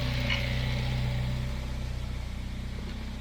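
An old tractor engine runs at a steady idle nearby, with a continuous low, even throb and a faint whine above it.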